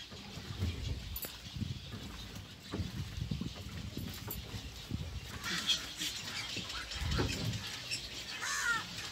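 Crows caw repeatedly around a river where crocodiles live, scattered harsh calls at moderate distance over outdoor ambience, with a person speaking at times.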